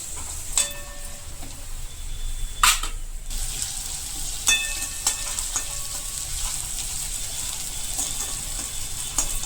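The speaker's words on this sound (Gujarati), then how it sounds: "મરચાંને પણ થોડાક પાકવા દેશું, જેથી કરીને કચાશપણું નીકળી જાય." Green chillies cooking in oil in a pan for dry potato bhaji, giving a steady close sizzle with occasional spoon scrapes and clinks against the pan.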